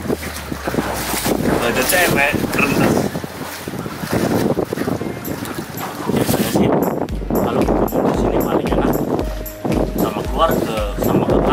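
A breeze blows across a boat while people eat rujak on board, giving steady wind rumble and buffeting on the microphone beneath almost constant close conversation.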